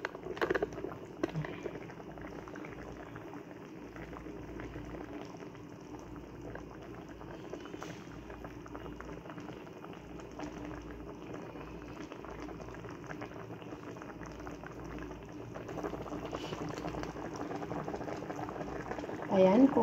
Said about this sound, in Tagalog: Ayan, kulong-kulo na siya.